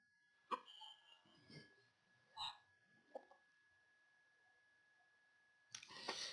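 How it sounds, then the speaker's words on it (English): A person hiccups several times: quiet, sharp, abrupt catches spaced about a second apart, close by in an otherwise quiet room, followed by a louder burst of noise at the end. "Ah, getting hiccups."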